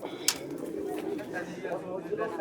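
Pigeons coo at a busy pigeon market in Saruliya, a courting male calling near a female, with low, repeated cooing under steady crowd chatter and nearby talk.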